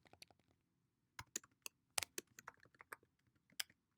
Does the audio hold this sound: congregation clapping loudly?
no